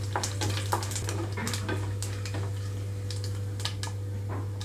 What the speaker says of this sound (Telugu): ఎండుమిరపకాయలు మొత్తం వేసి వేయించుకుంటున్నాను